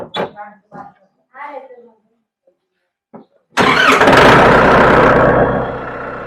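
After a few brief spoken words, a tractor engine cranks and catches, then runs loudly and steadily at idle, close by, settling slightly toward the end.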